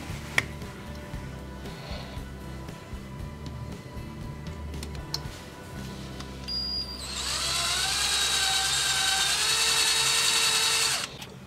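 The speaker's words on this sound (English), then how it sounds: "so I'm going to go ahead and drill number two, and it's a little odd angle, so I'm going to use the angle, my angle drill for that" An angle drill bores into a coolant pipe on a Porsche 996 Turbo during a pinning repair, running as one loud, steady high whine for several seconds near the end after quieter workshop handling noise.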